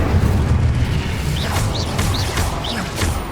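Hogwarts Legacy combat with an Incendio fire spell cast, a loud roaring rumble of flame and blasts with several short rising whooshes layered over it.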